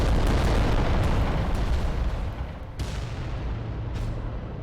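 Volcano cannons in Adeptus Titanicus: Dominus fire in heavy rumbling explosions, with a dense roar at first and then sharp blasts near 2.8 and 4 seconds.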